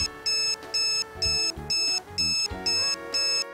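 Effitek dog fence collar sounding a series of short electronic beeps in a steady rhythm, about seven bright tones each roughly a quarter second long, close and clear with nothing else heard.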